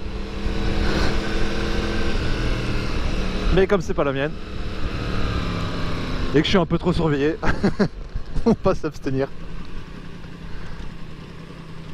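Yamaha MT-10 SP motorcycle engine running steadily during a ride, with revving bursts rising and falling, under continuous nearby talk.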